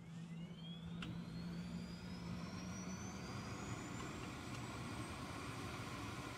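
Avro Vulcan delta-wing bomber jet engines cold start in War Thunder, a steady roar with a rising turbine whine that climbs slowly in pitch as the engines spool up, loud and continuous.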